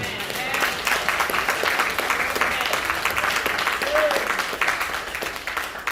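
Sustained applause from a crowd, steady and fairly loud for several seconds, with a voice briefly audible over it.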